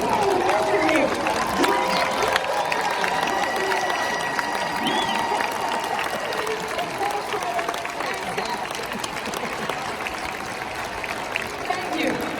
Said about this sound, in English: please stand one more time and give an accurate round of applause to the people who nurtured you